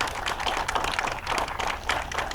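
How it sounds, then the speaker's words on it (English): Audience applause for an actress introduced at a live broadcast event, a steady wash of many hands clapping at moderate volume throughout without pause. "Give her a nice round of applause"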